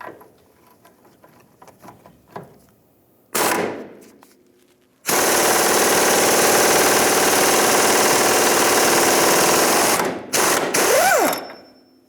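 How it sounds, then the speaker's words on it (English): A ratchet with a 28mm socket works a radius arm bushing bolt on a 1992-1996 Ford F-150. Short clicks come first, then a long, loud, fast mechanical ratcheting burst that stops briefly and starts again, with no talk. "So now we're going to remove this radius arm bolt on the end for the bushing. I have a 28mm socket."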